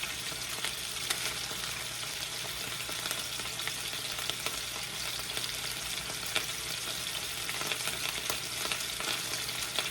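Seasoned pork chops fry in a skillet with a steady, dense sizzle and crackle, close and continuous, with occasional faint scraping from stirring or turning and no talk.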